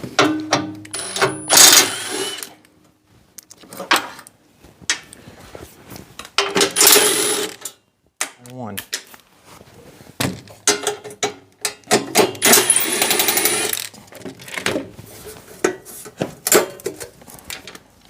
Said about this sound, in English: We're going to go ahead and use a 1/2 inch socket and start removing these bolts.